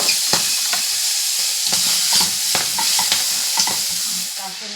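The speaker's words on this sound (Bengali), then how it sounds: "এবার তেলটা গরম হয়ে গেছে, এই তেলের মধ্যে মটরশুঁটিগুলো দিয়ে দেবো।" Green peas hit hot oil and are stirred in a pan, giving a loud, steady sizzle broken by repeated scraping stirs. No voices.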